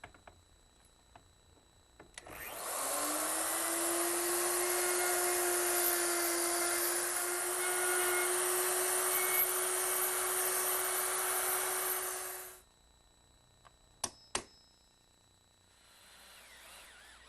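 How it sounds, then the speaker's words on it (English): An electric router guided by a jig cuts hinge mortises into an entry door jamb, spinning up to a loud, steady high whine for about ten seconds before winding down, followed by a few sharp knocks. "Now I'm ready to route out for the hinges."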